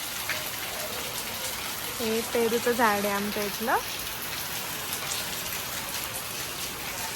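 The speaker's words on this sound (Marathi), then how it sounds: "हे बघा पाऊस चालू आहे यार" Steady monsoon rain hisses all through over an empty street, with a person speaking briefly in the middle over the downpour.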